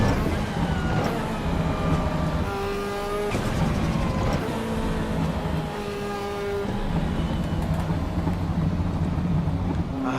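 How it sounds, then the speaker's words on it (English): A car engine droning while driving, its tone climbing and dropping through gear changes with a steady hum of road noise and no talking. "I love the sound of this car."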